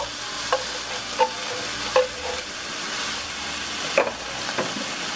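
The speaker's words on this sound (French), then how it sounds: "on va ajouter les tomates en cubes avec le bouillon" Browned vegetables stirred in a hot pot as diced tomatoes and broth go in, a steady sizzle punctuated by several sharp clinks and scrapes of a utensil against the pan.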